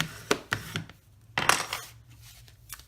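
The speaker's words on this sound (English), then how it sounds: "I'll give this a crease with my bone folder" A bone folder pressed and drawn along a folded paper card to crease it, giving a few short, close scraping and tapping bursts with quiet pauses in between.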